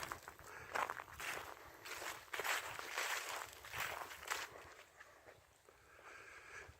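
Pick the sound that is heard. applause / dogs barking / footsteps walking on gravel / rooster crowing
footsteps walking on gravel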